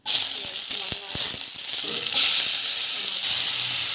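Ginger garlic paste hits hot oil for rava kichadi with a sharp burst of hissing sizzle that keeps going steadily and brightens partway through, with a few soft clinks from the pan early on.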